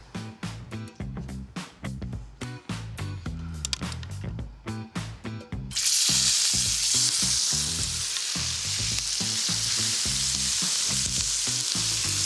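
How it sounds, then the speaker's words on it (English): Sugar and oil sizzle in a scorching-hot pan for chapa-style cooking. Rhythmic stirring scrapes come first, then a loud, steady, hissing sizzle surges in about halfway through and holds close and continuous to the end. "Sugar, oil, and fire make this amazing concoction with this nice view"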